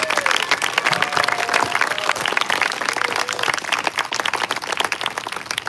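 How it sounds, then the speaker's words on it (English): A crowd at a multifaith peace picnic and 9/11 memorial applauds with dense, steady clapping that stays fairly loud and continuous from start to finish. "Could we give Samina Sundas a big round of applause?"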